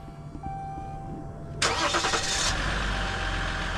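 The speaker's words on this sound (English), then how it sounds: "This has remote start" A Ram 1500 EcoDiesel pickup starts by remote start: a quiet hum, then a loud broadband burst as the diesel cranks and catches, easing into a steady low idle.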